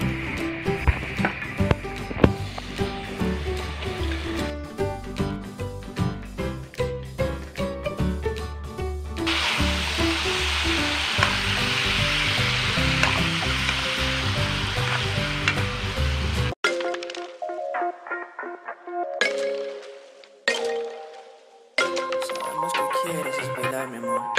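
Chicken for pepper chicken sizzles loudly in a pan as it is stirred, a steady frying hiss with scraping for about sixteen seconds before music takes over.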